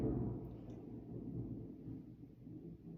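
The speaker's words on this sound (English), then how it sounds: "I just heard thunder." Distant thunder rolls as a low, muffled rumble, strongest at the start and then fading into a steady murmur, faint and far away with no voices.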